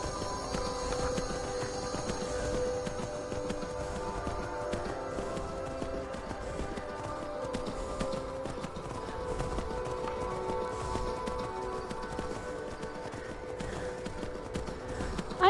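Horse hooves galloping in the video game Skyrim VR, a continuous rapid clip-clop rhythm at moderate distance, fairly faint under game ambience.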